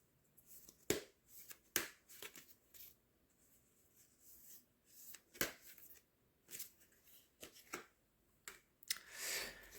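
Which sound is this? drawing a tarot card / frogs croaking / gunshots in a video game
drawing a tarot card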